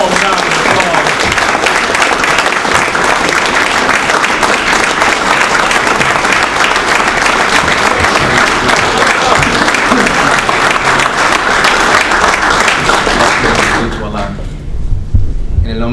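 Audience at a mosque gathering gives a warm, sustained round of applause to welcome a speaker, loud dense clapping lasting most of the time before tapering off near the end.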